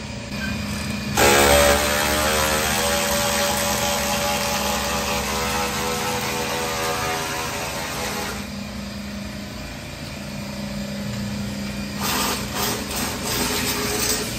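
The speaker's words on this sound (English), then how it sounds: "Right now he's cutting the factory mounts off the frame with the plasma cutter" A plasma cutter hisses and roars in long, loud, continuous bursts while cutting the factory mounts off a 1995 Dodge Ram truck frame in a shop, pausing briefly between cuts.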